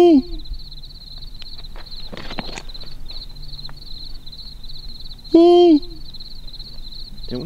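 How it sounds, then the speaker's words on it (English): An owl hoots at night in open country, two clear tonal calls, one at the start and a louder one near the end, over a steady high insect drone and some rustling footsteps. "The owl's like straight up following us."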